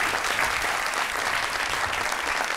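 A television studio audience at a comedy talk show bursts into steady applause, with dense, even clapping filling the whole moment.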